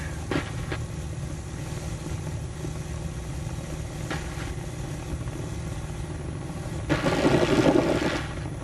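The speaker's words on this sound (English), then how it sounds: "he's off that smoothly and that easily. A very easy takeoff." Fairchild propeller trainer aircraft taking off from runway 26, a low distant engine drone that holds steady, then swells louder with a brief rushing burst near the end.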